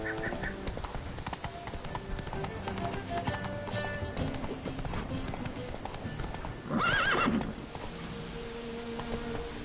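Roach, a horse in The Witcher 3, gallops with rapid, regular hoofbeats up close, and a loud neigh bursts out near the end over the game's ambient soundscape.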